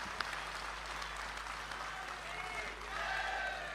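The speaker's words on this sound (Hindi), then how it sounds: "तालियां थोड़ी और मिल जाती हैं, अच्छा था।" An audience applauding at an all-India Hindi poetry gathering in Nimbahera, continuous, distant-sounding clapping that swells slightly near the end, with a voice faintly audible underneath.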